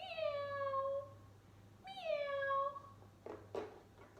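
Farm cat meowing, two drawn-out plaintive meows about two seconds apart, fairly close over a low hum, followed by brief soft knocks.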